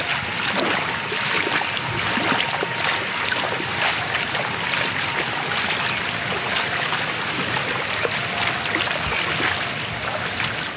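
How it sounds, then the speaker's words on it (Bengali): Strong wind gusts roar steadily across a flooded village with water-covered dirt roads and a wooden footbridge, a continuous broadband rush with no talking. "আজকে বাতাসের পরিমাণ এত"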